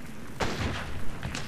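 A shotgun blast in the western video game GUN, one sharp boom followed by a quick second report a moment later, close and punchy over a low game ambience.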